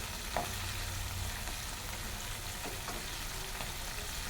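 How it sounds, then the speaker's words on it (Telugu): KFC-style chicken drumsticks, leg pieces, fry slowly in oil over low heat, giving a steady soft sizzle with a few faint stirring clicks and no talking. "సిమ్లో పెట్టి వేపుతున్నాం కదా, మెల్లిగా వేపుకోవాలి."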